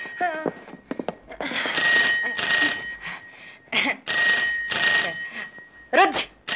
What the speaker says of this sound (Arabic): انا عارفه ده التليفون